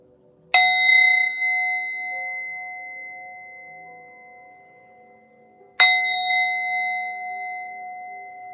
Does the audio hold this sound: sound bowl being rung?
yes